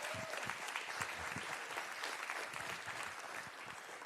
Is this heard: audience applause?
yes